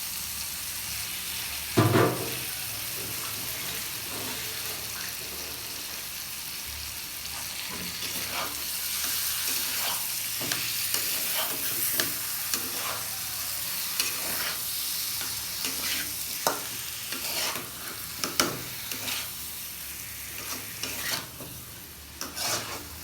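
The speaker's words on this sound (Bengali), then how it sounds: "মাংসটা দিয়ে ভালো করে কষাবো।" Chicken pieces with spices are being fried and stirred in hot oil in a pan. A steady sizzle runs throughout, broken by repeated scraping stir strokes, with a sharp clatter near the start.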